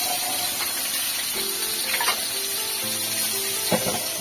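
Ridge gourd and greens frying in a pan of oil, with steady crackling sizzle and sharp spatters, plus faint tonal hum and scattered clinks close by; no one speaks.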